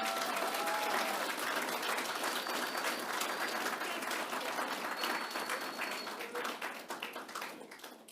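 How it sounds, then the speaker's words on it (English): A crowd at a club's presidential address applauds steadily, dense clapping that holds strong before gradually thinning out toward the end. "Let's give them another round of applause."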